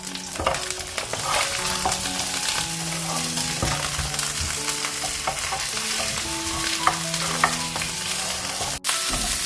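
Paya (goat or beef trotters) frying lightly in oil in a pot for yakhni, a loud continuous sizzle with frequent spoon stirs and clinks against the pot throughout, close up.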